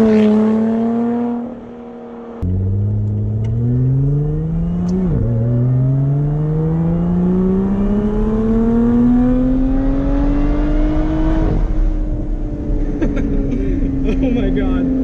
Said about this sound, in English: I still think this might be one of the best sounding V6s I've ever heard on any car